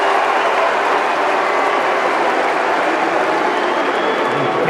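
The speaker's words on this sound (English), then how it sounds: "He's going to take his time, get that crowd going, hope that Wu tightens up." Wimbledon tennis crowd applauding on Centre Court during a Grand Slam match, a broad, steady wash of clapping and crowd noise held at even loudness throughout, fairly distant and without clear individual claps.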